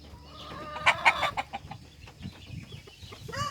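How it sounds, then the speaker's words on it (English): Speckled Sussex roosters and hens on a backyard flock in Oklahoma, clucking and squawking close by in a busy overlapping chatter, with a few louder calls rising early and near the end. "We have 4 speckled Sussex roosters."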